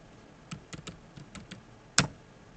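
Keys tapped on a computer keyboard, a handful of light separate clicks spaced irregularly, ending in one sharper, louder keystroke, all fairly faint and close with no voices.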